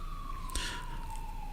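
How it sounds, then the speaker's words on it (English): A police siren passes outside, its steady wail sliding gradually downward in pitch as it drives by at a moderate distance. "That's if you hear some sirens in the background."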